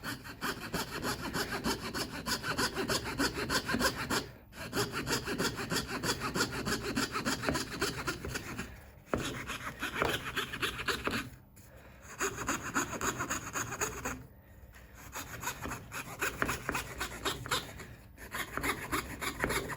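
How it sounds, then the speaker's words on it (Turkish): A fret saw with a dull blade cuts through wood in quick, steady rasping strokes, close and continuous, broken by several brief pauses between bouts of cutting. "Kıl testeremiz de bayağı körelmiş aslında değişmesi lazım"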